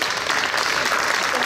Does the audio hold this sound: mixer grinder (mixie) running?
no